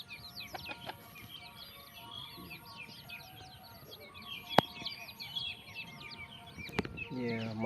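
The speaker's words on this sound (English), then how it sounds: "Yeah, my chicken." Chickens cluck and chirp faintly on a small countryside farm, with occasional wing flaps and a couple of sharp knocks, all heard at a distance under low background noise.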